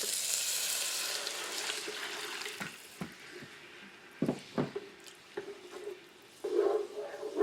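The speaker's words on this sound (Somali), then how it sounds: "iyo 2 koob oo biyo kulul ah" Hot water is poured into frying meat sauce for pasta, giving a rushing splash and hiss over a sizzling pan, with clanks of a utensil and a burst of bubbling toward the end.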